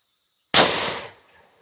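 A single loud, sharp gunshot from a modified turkey shotgun fired on a test range, a sudden blast that decays over about half a second over a faint steady insect-like background tone.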